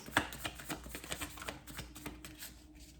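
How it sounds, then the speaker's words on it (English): Slippery tarot cards are shuffled close up in a quiet room, a quick series of soft riffling flicks and taps, with a sharper snap near the start, then settling into lighter rustles. "These cards are so slippery that when I shuffle them, they like a bunch of them just toss out."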